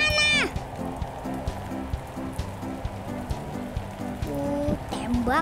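Rain pours steadily during a thunderstorm in Roblox Natural Disaster Survival, a dense even hiss running throughout beneath game tones and chimes.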